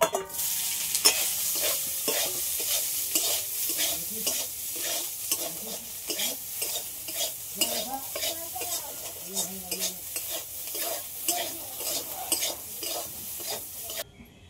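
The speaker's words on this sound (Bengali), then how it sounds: "সয়াবিনটাও ভেজে নেব।" Soybean chunks fry in a pan with a soft, steady sizzle, while a spatula scrapes and stirs in a regular rhythm throughout.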